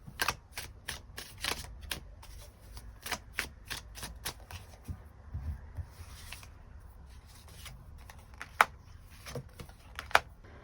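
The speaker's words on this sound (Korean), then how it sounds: "추가 카드 뽑아보도록 하겠습니다" Tarot cards are shuffled and drawn, giving a quiet run of quick, crisp riffling snaps and soft slides, close and clustered, with a few sharper flicks near the end and no voices.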